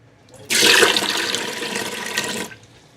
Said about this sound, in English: And so I'm gonna try to just strain it off.